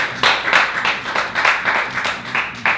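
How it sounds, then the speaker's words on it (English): Lecture audience applauding in uneven bursts, many hands clapping at close range in a loose rhythm that swells and dips over a few seconds, with no talk. "let's give that African a round of applause"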